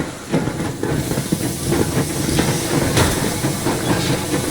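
Yermak, a steam locomotive in Metro Exodus, chugging along with a steady hiss of steam, rhythmic puffs and rail clatter, fairly loud and close, with no voices.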